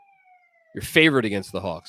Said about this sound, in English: That's the ambulance going by.